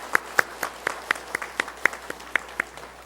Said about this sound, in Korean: 우리 박수 한번 해드릴까요?